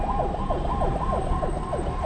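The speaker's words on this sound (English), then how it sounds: "The siren of the hearse carrying 4 people who died of coronavirus to the Abudome cemetery." Siren wailing on a hearse carrying coronavirus victims to a cemetery, a steady repeating up-and-down sweep, loud and close throughout with a low rumble of traffic beneath.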